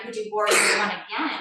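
A single sneeze bursts out mid-sentence during a yoga class, loud and close, cutting across an instructor's spoken cues, with talk resuming just after.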